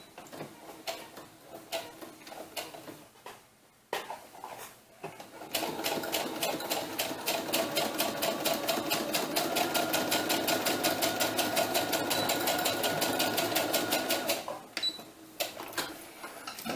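A sewing machine joins two pieces of a doll's elf or witch boot together, with a few short stop-start stitching bursts followed by a long, continuous and evenly paced run of close, rattling stitches that then stops.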